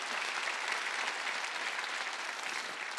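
A church congregation applauds at a Sunday charismatic worship service, a steady, dense wash of clapping that holds evenly for the full three seconds with no voices above it.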